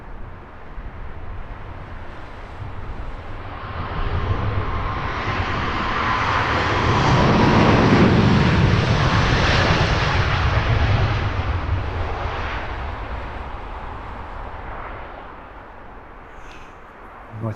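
A United Boeing 767 airliner roars past at Heathrow Airport, its jet engine rumble swelling to a loud peak mid-pass and then slowly fading, heard alone without voices.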